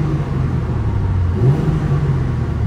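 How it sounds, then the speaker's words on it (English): Manual BMW G82 M4 engine and exhaust revving in a tunnel, a loud, close, droning rumble that swells briefly with a pitch rise midway, then settles back to a steady growl. "so I'm probably just gonna give it some revs."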